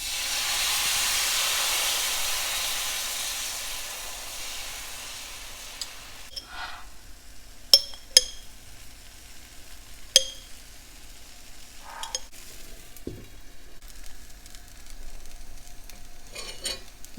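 Ragi dosa batter poured onto a hot pan gives a loud steady sizzle and hiss that slowly fades, followed by faint scattered clicks and scraping of utensils in a quiet kitchen.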